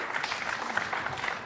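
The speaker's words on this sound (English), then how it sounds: "Grudging applause" Spectators at a 2006 World Pool Championship match give a short, restrained round of applause, a soft patter of scattered claps.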